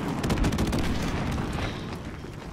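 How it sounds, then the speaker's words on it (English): Enemy airstrike in Call of Duty 4: Modern Warfare Remastered, a heavy rumbling barrage of explosions and gunfire, loud and continuous, fading slightly over a couple of seconds. "enemy airstrike getting called on us"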